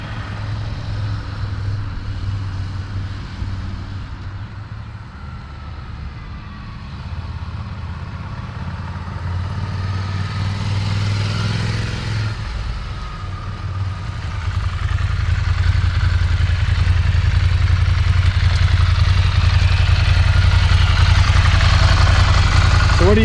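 A Ducati Scrambler motorcycle's engine hums and rumbles steadily under wind noise while riding, and the sound grows louder and rougher toward the end as it pulls through gear changes.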